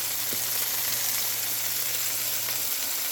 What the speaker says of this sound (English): Sauteing with some onions